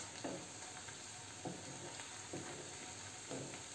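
Onions and masala sizzle in a pan for rajma, a soft steady frying hiss broken by a few faint scrapes of stirring at regular intervals, quiet and close with no voices.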